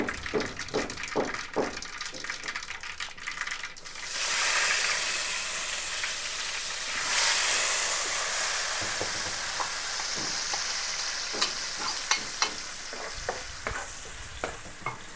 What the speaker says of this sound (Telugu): ఇది ఒకేసారి దీంట్లో వేసి మిక్స్ చేస్తున్నా